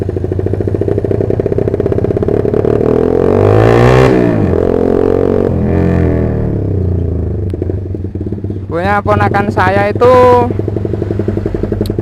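Honda CB150R motorcycle fitted with an aftermarket Pantera exhaust, revving loudly up and down close by, with rising and falling engine pitch and a burst of sharp revs near the end, while someone speaks over it.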